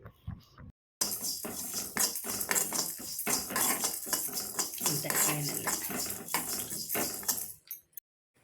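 Coriander seeds and white sesame seeds dry-roast in a pan, with busy metallic clinking and scraping from a utensil stirring them close up for several seconds, then a sudden stop near the end.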